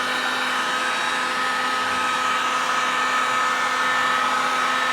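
A heat gun blowing hot air onto metal body panels on a Suburban for cold weather painting, a steady close whirring rush with a constant fan whine and no breaks.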